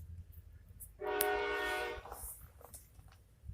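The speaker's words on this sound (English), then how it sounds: "And there goes the train." A train passes nearby with a sustained horn blast lasting about a second, loud and steady, followed by fainter rumbling and clatter as it moves on.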